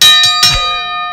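A bright metal bell is struck twice in quick succession, each ring leaving a clear, sustained tone that slowly fades, loud and close with no talk over it.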